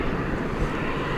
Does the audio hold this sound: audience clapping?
no